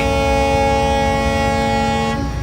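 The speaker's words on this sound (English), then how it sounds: "All right, honk." A loud, steady horn blares continuously for over two seconds at Magic Kingdom, a sustained tonal honk that cuts off near the end.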